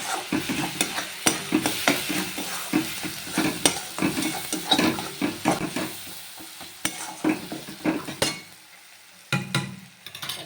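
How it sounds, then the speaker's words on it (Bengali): Egg tarka with Kashmiri chili powder sizzles in a pan while a spoon stirs it, with steady frying hiss broken by repeated clinking scrapes at an irregular rhythm, close and fairly loud, with no voices. "কাশ্মীরি লঙ্কার গুঁড়ো দিয়ে ভালো করে নাড়াচাড়া করবো"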